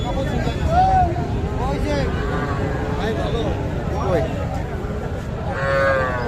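Several cattle, including young bulls and heifer calves, moo at intervals amid a busy crowd at a cattle market in Dinajpur, with people talking and babbling throughout the noisy outdoor scene.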